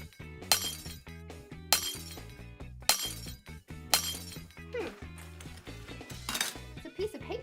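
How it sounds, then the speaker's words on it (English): Glass being smashed, with sharp bright crashes and tinkling shards at roughly one-second intervals, heard over steady background music. "put on your safety goggles and break the glass"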